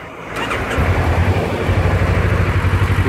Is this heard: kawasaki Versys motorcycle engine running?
yes